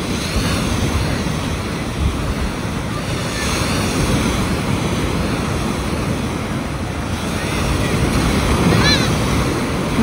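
Steady evening surf washes onto a Bulgarian hotel beach in a continuous broad rush, with gentle swells rising and falling and some wind noise.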